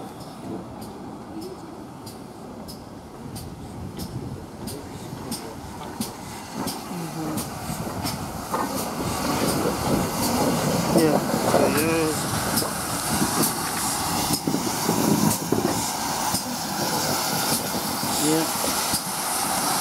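GWR No. 5239 Goliath, a steam locomotive, runs around its train at Alton, with hissing steam, rhythmic chuffing and clanking that build in loudness, and some indistinct background voices at the station.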